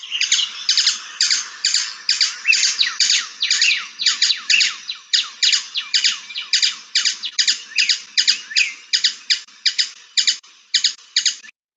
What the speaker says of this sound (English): So it's a real high pitch, kind of repetitive squeak sound.